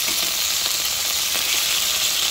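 Marinated chicken wings sizzling in hot oil in a pan for adobo, a loud, steady, close frying hiss with faint crackles and no talking.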